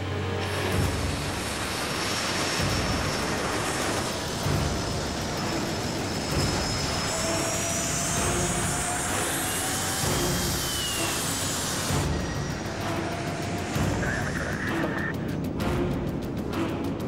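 An Alpha Jet military jet of a French aerobatic display team flies at speed, a continuous loud roar with whining tones that shift in pitch, steady throughout with no talk.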